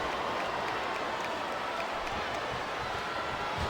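Arena crowd noise in the WWE SmackDown vs Raw 2008 wrestling video game, a steady, loud roar of cheering and applause that fills the whole stretch without letting up.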